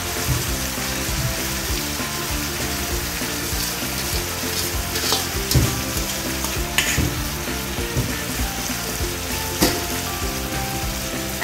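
Chicken and winged beans cooking in a pan for ginataang sigarilyas, with a continuous loud sizzle and frying crackle while a utensil stirs, scraping and clinking now and then.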